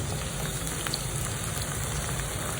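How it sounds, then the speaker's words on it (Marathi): Tomatoes fry in a pan of oil with chilies and onion for a khichdi, making a soft, continuous sizzle with faint scattered crackles, close and moderately quiet, with no voices. "आता टोमॅटो टाकायचे"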